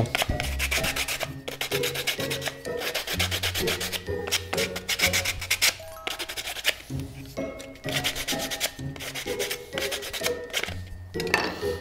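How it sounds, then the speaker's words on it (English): Sandpaper rasps against wood in quick, repeated back-and-forth strokes, loud and close, with brief pauses between bursts of rubbing. "you can just make them go away"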